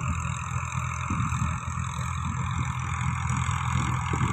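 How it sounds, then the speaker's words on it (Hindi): A Ghazi tractor's engine runs steadily with a low, rumbling drone, loud and continuous throughout in an open farm setting, with no talking. "गाज़ी ट्रैक्टर आ रहा है"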